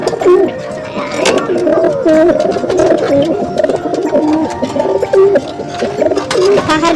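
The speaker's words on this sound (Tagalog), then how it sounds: "ito yung mga kalapati natin" Racing pigeons coo close by in repeated low, rolling calls, several birds overlapping with steady murmuring over a busy loft background.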